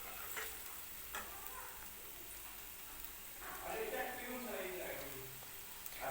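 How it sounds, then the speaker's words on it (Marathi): Matar paneer gravy frying in oil in a pan gives a soft, continuous sizzle with occasional stirring clicks, fairly faint and close, with no clear speech. "तेल सुटेपर्यंत भाजायची आहे."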